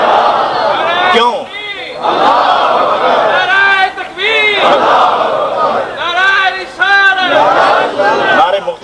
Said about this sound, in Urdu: نعرے مختصر کریں بھائی